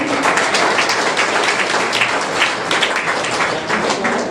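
Steady applause from an audience at a college voter awareness event in Madhepura, continuous and fairly loud throughout with no talk over it.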